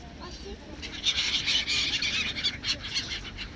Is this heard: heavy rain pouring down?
no